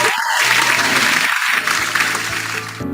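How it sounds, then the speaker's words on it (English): An audience at the Solid Edge Design Competition Philippines 2022 event gives sustained applause, a dense steady clapping that continues for the whole stretch with brief gaps and no talking over it. "can we give them also a virtual clap for making this event possible?"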